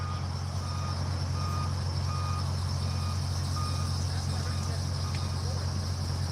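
A truck at a night DUI checkpoint starts up and pulls away, a steady low engine rumble under repeated reversing beeps, with insects chirring constantly in the background.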